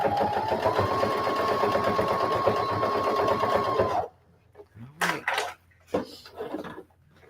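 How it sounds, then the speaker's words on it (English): A sewing machine runs continuously for about four seconds, stitching back stitches on patchwork made from scraps and old blue jeans, then stops, followed by a few short handling knocks and a voice. "Okay, girl, you doing all them back stitches."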